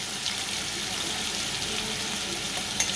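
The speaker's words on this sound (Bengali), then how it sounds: "তো দেখো কড়াইতে আমি আলু দিয়ে দিয়েছি, আলুটাকে হালকা লাল করে নেব" Potatoes fry in oil in a wok for a potato and pomfret fish curry, giving a steady, close hiss of sizzling that runs evenly throughout with no talking.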